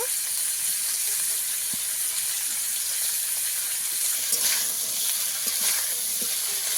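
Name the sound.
frying potatoes and drumsticks with spices in a pan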